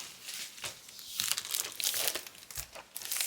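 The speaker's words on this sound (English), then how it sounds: "So very well packaged, I have to say. 2 layers of bubble wrap." Dry crinkling and crunching of bubble wrap packaging around a coloured pencil set, close by, in irregular bursts that grow busier toward the end.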